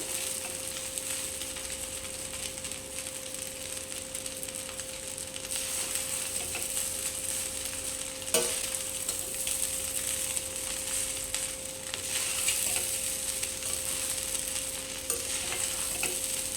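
Egg fried rice being stirred and tossed in a hot pan with sauces: continuous loud sizzling with repeated scraping strokes of a spatula, close up, no voices.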